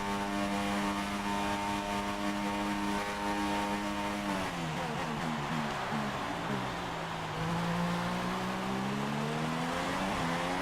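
Formula 1 race cars in the F1 2016 game, including Mercedes and Ferrari, roar continuously with a high, tonal engine whine that drops abruptly on downshifts and then climbs again while a rival car passes close by.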